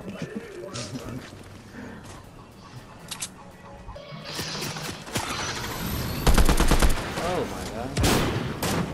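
Video game gunfire aimed at the player, loud bursts and volleys, heaviest in the second half, mixed with game sounds and an excited voice talking over it.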